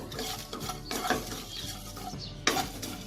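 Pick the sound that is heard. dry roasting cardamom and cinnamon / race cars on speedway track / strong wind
dry roasting cardamom and cinnamon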